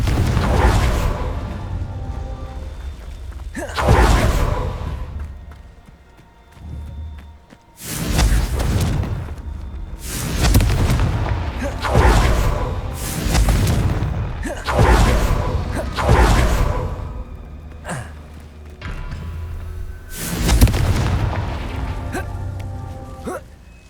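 Confringo blasting curse explosions in the video game Hogwarts Legacy, a series of about six loud bursts with whooshing tails, spaced a few seconds apart with quieter gaps between.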